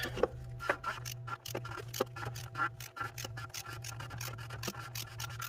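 An oil filter on a 3.6L Dodge Grand Caravan is spun on by hand, giving close, repeated rubbing and rasping scrapes in an uneven rhythm over a low steady hum.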